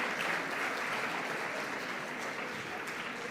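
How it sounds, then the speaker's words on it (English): A crowd applauds a panel at a business event, continuous dense clapping at an even level throughout, heard somewhat distant and soft. "Can we have a huge round of applause for this August panel?"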